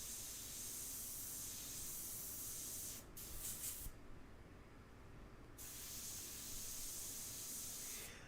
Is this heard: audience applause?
no